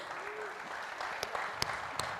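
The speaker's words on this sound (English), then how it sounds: "can you have a very, very, very huge round of applause for all the winners" Applause from a crowd for award winners at an evening event, a steady patter of clapping with a few sharper claps standing out, heard from a moderate distance.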